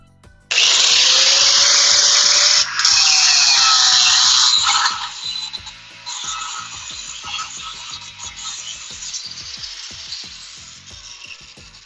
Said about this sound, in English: Next, I'm going to cut through the aluminum.